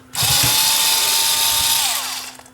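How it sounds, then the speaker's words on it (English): Power screwdriver backing screws out of a Pioneer X-CM30 CD player during a repair: one loud, close, continuous motor whine lasting about two seconds, then winding down, with no talking. "take all the screws out here"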